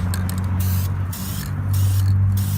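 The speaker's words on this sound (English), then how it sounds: "Best way to get rid of dirt is to spray paint over it." A spray paint can hisses in several short, sharp bursts separated by brief pauses, loud and close, over a low background hum.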